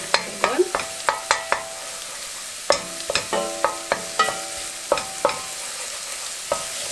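Garlic frying lightly in oil for pizza sauce, with a soft sizzle under a regular series of sharp metallic taps and scrapes of a spoon against the pan, close and clear.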